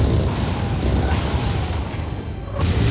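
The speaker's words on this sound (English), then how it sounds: "Hear that AMS working." Anti-missile system fire in the MechWarrior game: a continuous loud, rumbling barrage of booming bursts that runs for about three seconds, swelling again near the end.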